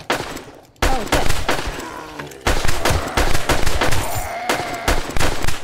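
Gunfire in the video game 7 Days to Die as players shoot at zombies: dense, loud, rapid bursts of shots after a short quiet start, continuing almost without pause.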